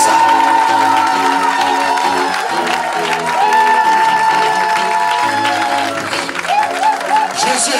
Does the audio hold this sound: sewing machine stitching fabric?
no